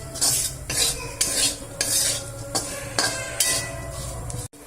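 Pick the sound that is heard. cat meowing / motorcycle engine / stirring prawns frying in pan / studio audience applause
stirring prawns frying in pan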